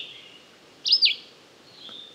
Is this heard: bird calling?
yes